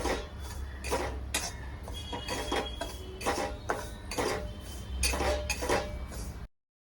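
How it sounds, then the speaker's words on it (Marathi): Dry semolina (rava) roasts in a pan over a high gas flame while a spatula scrapes and stirs it in repeated rhythmic strokes, close and fairly quiet, with no talking. "आता आपण कोरडाच रवा भाजून घेऊया"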